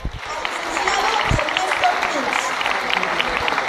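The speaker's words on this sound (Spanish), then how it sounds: "Vamos a dar un fuerte aplauso a la licenciada Alejandra Muñoz Salazar." An audience at a youth singing competition final applauds the dance judges, dense steady clapping from a crowd close by, with a voice talking over it.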